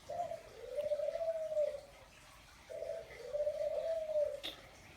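A pet bird gives two long, smooth coos in a row, close and moderately loud over faint steady room noise.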